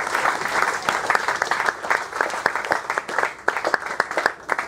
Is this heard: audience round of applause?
yes